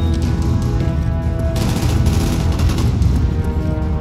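Gunfire rattles through a Call of Duty: Black Ops firefight, with loud dense bursts of shots and booming blasts layered over constant battle noise, close and nearly unbroken for several seconds.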